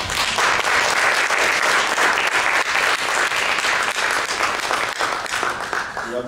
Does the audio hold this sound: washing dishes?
no